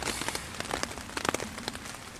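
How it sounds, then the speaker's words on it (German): Rain patters steadily on a tent during a thunderstorm, with dense irregular drops tapping close overhead and a constant wet hiss underneath. "Da sitze ich hier im Zelt und schaue dem Regen zu"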